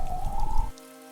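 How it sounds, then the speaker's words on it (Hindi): Rain patters briefly as a cartoon story sound effect, then cuts off abruptly, leaving a faint tonal hum. "बारिश की आवाज धीरे धीरे बंद होती है"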